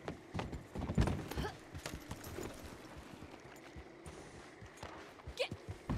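Horse hooves clip-clopping on the ground in the video game Red Dead Online, a steady walking rhythm of close, fairly quiet hoofbeats with some background game ambience.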